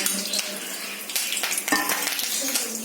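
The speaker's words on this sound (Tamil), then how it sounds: "நல்லெண்ணெய் ஊற்றி தாளிச்சிருக்கேன் நான் இப்போ" Spices tempering in hot sesame oil for a betel leaf curry, a steady close crackling sizzle with small pops and metal clinks of a pan and utensil, no talk.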